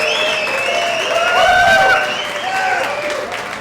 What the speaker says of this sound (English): I'd like to get a round of applause for all photographers and filmmakers